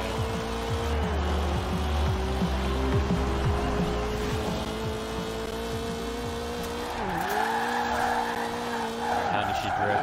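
Car drifting in the video game Forza Horizon 4, with a loud, sustained engine drone whose pitch dips and recovers twice as the tires squeal and skid continuously, close up and without talk.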